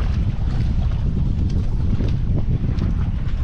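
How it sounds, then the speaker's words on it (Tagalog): Strong wind at sea buffets a fishing boat, a loud, continuous roaring rush with steady gusting and no let-up. "malakas yung hangin ngayon"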